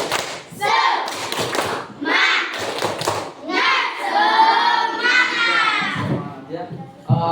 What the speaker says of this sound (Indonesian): kita tepuk semangat untuk kita semua